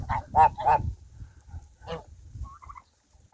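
A few loud honks from geese ring out close by, then quieter squawks and chirps from chickens, ducks and turkeys follow in a calm farmyard at breakfast, minus 8 degrees outside.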